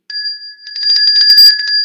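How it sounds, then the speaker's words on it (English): A small bright bell rung repeatedly on a weather show set, rapid ringing dings layered over a sustained metallic ring, close and fairly loud, with no talking. "you can ring the bell for your person"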